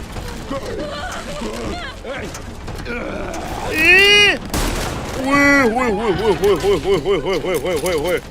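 Shotgun fire and reloading mechanisms from the zombie survival game Resident Evil 9 Requiem, with loud bursts and clanks mixed among tonal game effects and music, while a player talks excitedly over the action.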